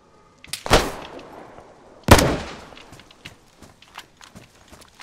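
Gunfire in a video game: two loud, sharp shots about a second and a half apart, each trailing off, followed by a scatter of faint clicks and taps. No voices are heard.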